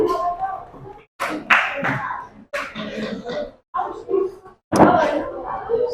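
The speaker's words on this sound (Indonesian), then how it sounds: "beri tepuk tangan ya pada kelompok 5" Primary school classroom clapping for a presenting group, several bursts of hand claps broken by short pauses, with children's voices and a cough mixed in.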